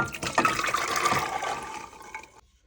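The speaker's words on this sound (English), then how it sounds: "So now I'm going to transfer it to another pot, the pot that I'm going to cook it in." Soaked red kidney beans and water with garlic are tipped from one pot into a cooking pot, a splashing, gurgling pour lasting a couple of seconds before cutting off.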